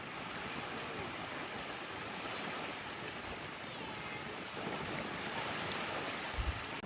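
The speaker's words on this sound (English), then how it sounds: "That's the ocean." Ocean waves along a Vancouver Island beach at sunrise, a steady, moderately loud wash of surf with a gentle swell midway and a couple of soft low bumps near the end.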